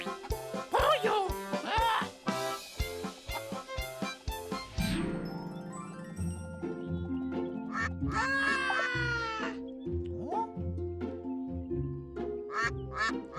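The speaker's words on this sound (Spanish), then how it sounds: "¡Pato, pato! ¡Pato!" Cartoon duck quacking in a children's animal-names surprise egg game: a run of bright, nasal quacks in quick bursts over bouncy music, with sparkly tinkles and a rising whoosh, fairly loud and close.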